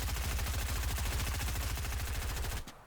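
Rapid automatic gunfire in a shooter video game, a long dense burst of evenly spaced, loud shots that stops abruptly near the end.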